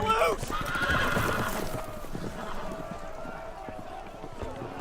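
Loud horse whinnies from the video game Game of Thrones ring out at the start, followed by a steady clatter of galloping hooves that continues under the neighing.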